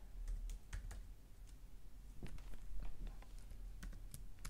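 Computer keyboard keys clatter in quick, irregular bursts of typing as Python Plotly code is entered, fairly close and alone with no voice.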